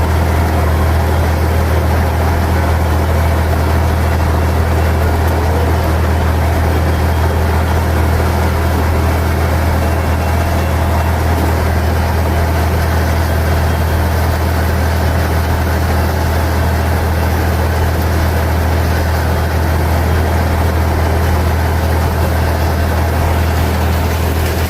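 A tractor engine drones loud and close while cutting hay around a pasture, a heavy low rumble that runs unbroken with no talk over it.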